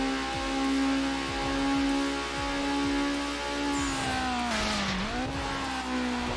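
Race cars roar through a lap in Need for Speed Underground, chasing a Honda S2000, with a steady loud engine drone that dips briefly as if shifting or braking, then climbs again, plus faint tire noise.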